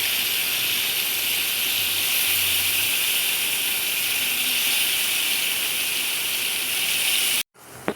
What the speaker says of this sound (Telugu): యాడ్ చేసుకొని ఒక 2 మినిట్స్ బాగా ఫ్రై చేసుకోవాలి.